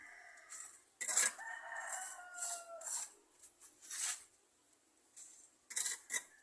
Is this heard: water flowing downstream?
no